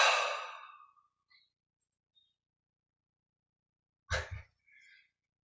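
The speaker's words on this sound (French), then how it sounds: "Et on expire lentement." A slow, breathy exhale during guided meditation, clear and close, tapering to silence, followed later by a brief soft intake of breath.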